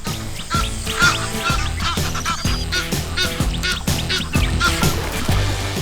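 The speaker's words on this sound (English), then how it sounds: "Birds sound the alarm." Birds give loud, harsh alarm calls over and over in a quick, steady rhythm, with several voices overlapping close by, in the wild as a monitor lizard approaches.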